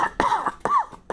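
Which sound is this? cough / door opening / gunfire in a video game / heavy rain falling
cough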